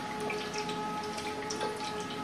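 Watery ground masala paste for a crab curry is strained through a sieve, with soft, steady trickling and faint dripping, quiet and close.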